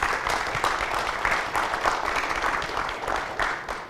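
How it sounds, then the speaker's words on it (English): Audience at a conference applauds a panel, steady broad clapping from a seated crowd, moderately loud and even across the whole stretch with no talk over it. "All right, please give a round of applause for our wonderful panel here."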